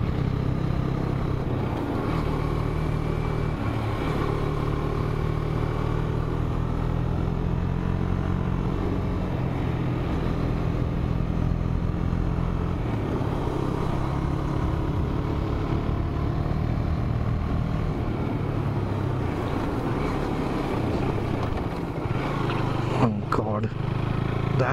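KTM Duke 250 motorcycle riding a hilly road at Lavasa, a steady loud engine drone with wind noise throughout, continuous and close, with a brief knock near the end.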